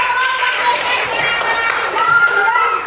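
A classroom of children claps for a student presentation group, a dense close patter of many small hands with voices mixed underneath.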